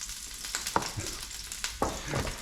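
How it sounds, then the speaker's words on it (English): Tinned Heinz ravioli fries in a pan with a steady hiss and crackle. A few sharp clatters come as it is stirred or moved about. "I'm going to fry them a little bit"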